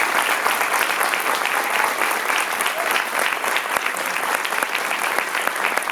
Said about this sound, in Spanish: les voy a pedir un nuevo aplauso para esta inmensa tarea